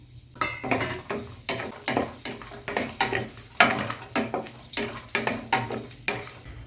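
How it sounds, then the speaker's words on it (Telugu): Almonds and other dry fruits fry in ghee in a pan, with a soft sizzle under rhythmic stirring as a spoon scrapes and clinks against the pan in quick repeated strokes, close and moderately quiet. "బాదం కొంచెం లేట్గా ఫ్రై అవుతుంది కాబట్టి మిగిలిన డ్రై ఫ్రూట్స్ కూడా వేసేసుకుందాం."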